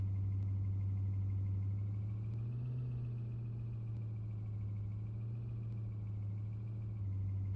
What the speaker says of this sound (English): the engine startup sound on this thing is absolutely amazing